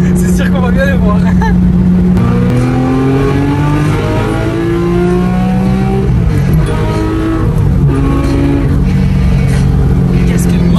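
A Porsche 996 GT3 with a naturally aspirated engine pulling hard through the gears, loud rising revs with quick shift dips, heard from inside the car with people talking over it.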